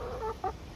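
A hen gives two short clucks close by on a Kerala homestead, brief and moderately loud against quiet background noise.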